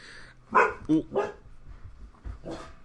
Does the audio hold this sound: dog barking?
yes